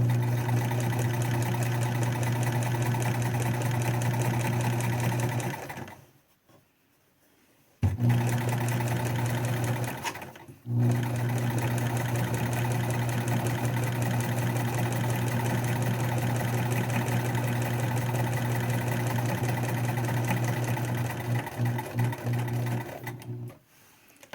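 A sewing machine runs in long, steady bursts while stitching a fabric face mask, pausing briefly twice as the fabric is pivoted at a corner, then carrying on down the next side; it is close and loud, with no talk.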